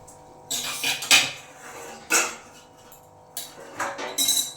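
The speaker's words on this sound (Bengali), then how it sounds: "ঢাকনা খুলে দিচ্ছি আমি" A metal lid is lifted off a pot of cooking dal, with several loud clanks and clinks of metal cookware in separate bursts against a quiet kitchen background.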